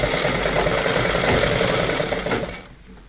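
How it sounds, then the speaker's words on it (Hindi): A sewing machine stitches the front placket of a shirt in one continuous, dense mechanical run, close and fairly loud, easing off near the end. "यहाँ पर हम मशीन से इस तरह से लब की सिलाई लगा देंगे इसके"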